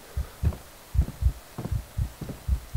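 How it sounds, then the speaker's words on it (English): A heartbeat effect in the horror video game Amnesia pulses in steady low double thumps, about ten beats close and clear, alone without talk. "Oh, I can hear my heartbeat."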